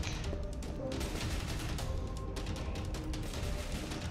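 Dense, continuous gunfire from GTA IV, a rapid volley of overlapping shots and crackling bursts that stays loud and close for the whole stretch with no pauses.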